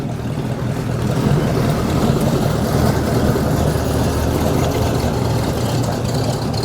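A 1963 Chevrolet Impala lowrider with a swapped engine idles with a deep, heavy rumble, loud and close, steady for several seconds.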